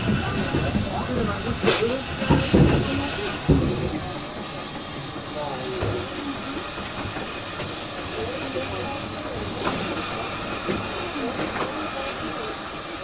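A steam rack locomotive climbing the Brienz Rothorn railway, with hissing steam and rhythmic chuffing and clanking heard close by under outdoor noise, and a burst of steam near the end.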